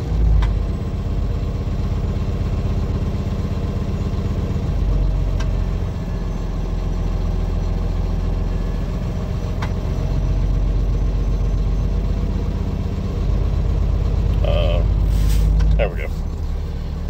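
A truck engine idled up during an air brake governor test, a loud steady mid-low engine drone with rhythmic clatter, dipping briefly before rising again, with a short hiss near the end.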